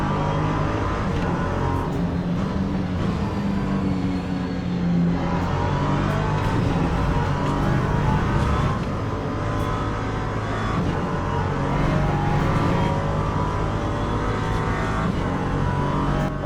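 A Ginetta LMP3 race car engine in a racing video game drones on continuously, rising and falling with gear changes and throttle, loud and steady throughout with no voice over it.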